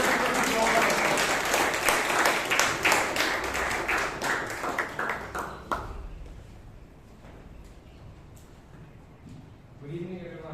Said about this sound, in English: Let us give a round of applause.